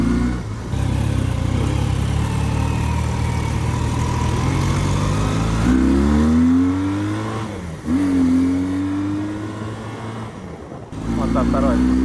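A Honda CB400N motorcycle engine drones loud and close, then revs up in rising pulls through the gears with brief dips at each shift, all under a rider's occasional talk.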